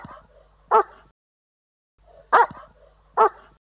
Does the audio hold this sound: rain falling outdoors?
no